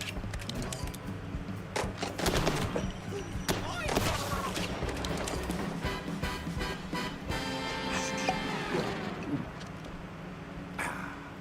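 A weapon set to burst-fire mode shoots in a video game, with repeated sharp clusters of shots over a continuous background while a voice talks.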